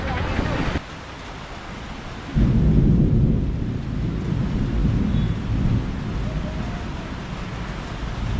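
Heavy rain pours steadily while deep thunder rumbles, swelling loud after a couple of seconds and rolling on, at a beachside spot in Weligama, Sri Lanka.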